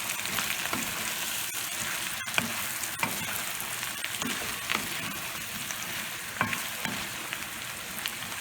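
Green beans sizzle and fry steadily in a hot pan, a continuous crackle with occasional scrapes and taps of a stirring utensil, close and alone without talk.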